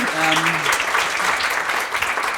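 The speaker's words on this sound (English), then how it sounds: "Big applause for them." Audience applause at a talk on alternative financing models, a short burst of close, moderately loud clapping from a crowd with faint murmured voices underneath, fading slightly toward the end.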